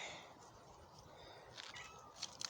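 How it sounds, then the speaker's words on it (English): A neighborhood cat meows faintly outdoors, a couple of short cries toward the end over a low background hiss. "Neighborhood cat."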